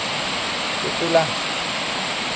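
Steady, loud rushing roar from a waterfall on a river swollen by rain fills the whole stretch, and a voice speaks briefly over the constant torrent.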